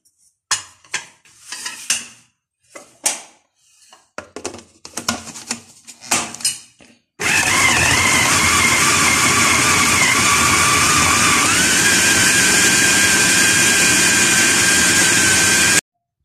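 Electric chopper mincing chicken with chillies, salt, coriander, garam masala, cumin and ginger-garlic paste: after several seconds of scattered clicks and knocks, a loud continuous whirring motor drone starts and runs steadily to the end, close up.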